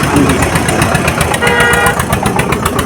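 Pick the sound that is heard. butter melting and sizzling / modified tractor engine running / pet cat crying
modified tractor engine running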